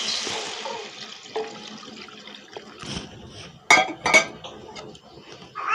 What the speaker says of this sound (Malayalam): ഇനി ഇതിലേക്ക് നമുക്ക് ഒരു ലേശം വെള്ളം ഒഴിക്കാം.